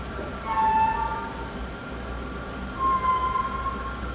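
A new Savaria lift at the Milwaukee Riverwalk squeaks as it travels, two thin high squeals over a steady mechanical rumble of motion, no talking.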